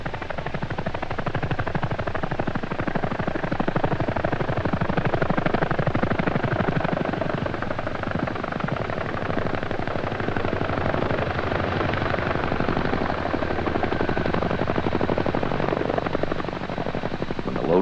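A CH-47 helicopter airlifting a Chaparral air defense system on a sling load in 1977 produces a continuous loud rotor thud and turbine roar that holds steady for the whole stretch.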